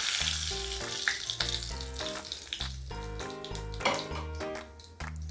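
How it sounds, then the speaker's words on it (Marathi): Cumin seeds sizzling in hot oil for a tempering, a close bright crackle and hiss that runs steadily under faint background music with no talk. "हे जिरे जे आहे ते आपण याच्यामध्ये टाकून देऊया।"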